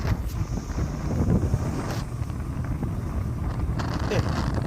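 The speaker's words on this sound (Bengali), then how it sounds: "কোথায় ঠান্ডা হাওয়া আসছে, তার মানে বৃষ্টি তো পড়ছেই" Cold wind gusts across the microphone in the open outdoors ahead of rain, a steady low rumble with buffeting, while people talk over it throughout.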